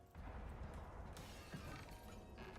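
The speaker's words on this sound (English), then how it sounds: "Flimsy fucking glass breaks the fuck completely in a Category 3 storm." Glass windows shatter in a Category 3 storm in the video game Icarus, giving a loud, sustained crashing and breaking under a roaring wind, with a sharp burst of smashing partway through.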